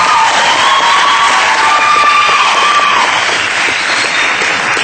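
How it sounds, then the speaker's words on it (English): Audience applause fills a 2012 graduation ceremony hall: a dense, loud, sustained clatter of many hands clapping, with a few cheers mixed in, easing off slightly toward the end. "So give them a round of applause for that."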